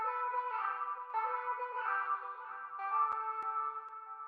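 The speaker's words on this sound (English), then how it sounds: "I just added these vocals from Splice that sound like this" Chopped vocal sample from Splice in an Afrobeats beat, a sustained harmonic voice that shifts pitch in short steps over a steady electronic backing, with a couple of sharp clicks near the end, loud and continuous.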